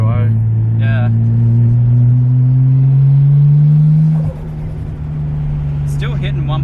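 A boosted Nissan Skyline engine, running around 1.5 bar at half throttle, drones loudly with a steadily rising pitch, then drops abruptly and settles into a lower steady hum, with brief voices in the background.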